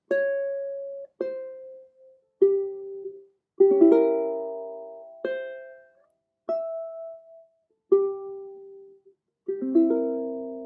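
A ukulele plucks a short snippet: eight separate single notes and strummed chords, about a second apart, each ringing briefly and fading. The playing is soft and close, with no voices.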